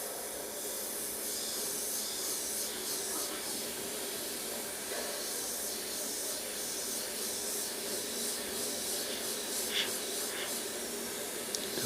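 An airbrush hisses continuously as it sprays paint onto a monochrome portrait, a steady close airy spray with no talking.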